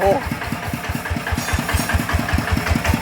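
A small engine running with a fast, steady chugging rhythm, close by and loud, with a voice speaking over it.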